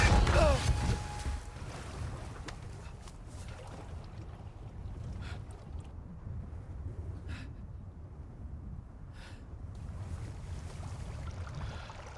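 Water sloshing and trickling into a boat in Resident Evil 4 Remake, a low churning wash with occasional small splashes, fairly quiet after a louder start.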